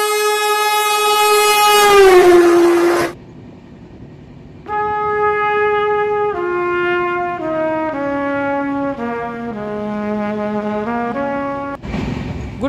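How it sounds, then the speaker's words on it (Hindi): Train horn sounding at a railway station in India as a train arrives, one long loud blast followed by a shorter pause, then a sustained multi-tone horn with shifting pitches, fairly near and alone without talk. "फिर ट्रेन आने वाला है मत 2-4 मिनट के बाद।"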